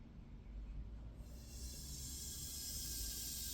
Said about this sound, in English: Now watch when I push on this release valve.